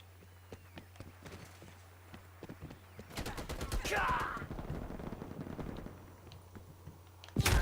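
Gunfire in a Black Ops Cold War match: after a quiet stretch, a burst of sharp rapid shots from about three seconds rattles on for several seconds amid game noise, ending with a loud crack.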